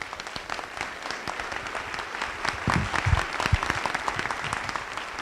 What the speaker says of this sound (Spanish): Démosle un aplauso por favor al doctor Javier.